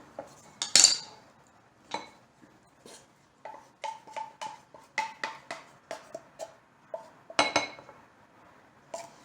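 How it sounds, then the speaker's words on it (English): A spoon scrapes and clinks against a bowl while a mixture made with canned condensed milk is stirred. The taps and scrapes come close and fairly quiet in a quick irregular rhythm, with one sharper clink near the start. "Stir these together and add the rest of this can of condensed milk."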